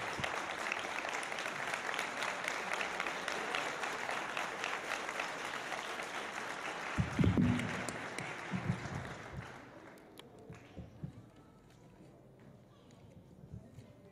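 An audience at an 8th-grade graduation ceremony at Escuela Arnaldo Falabella in 2015 gives loud applause for a teacher coming onto the stage. The clapping stays sustained and full, then thins and dies away, with a few thumps and quiet room noise afterward.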